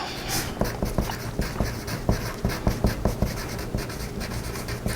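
A pen writes a label on a paper dress pattern, making close, rhythmic scratchy strokes and taps with small bumps between them, and nobody speaks.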